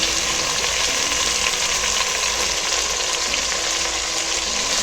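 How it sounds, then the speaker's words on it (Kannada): Four chopped medium tomatoes fry in hot oil in a pan for mushroom biryani, giving a dense, even sizzle that holds steady and close throughout, with no voices. "ಸೊ ಟೊಮೆಟೊ ಸ್ಕಿನ್ ಬಿಡೋವರೆಗೂ ಫ್ರೈ ಮಾಡ್ಕೊಳ್ಬೇಕು."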